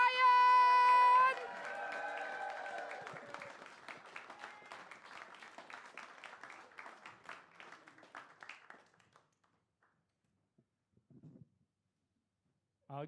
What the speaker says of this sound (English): please start the applause. Give it up for Pete Ryan!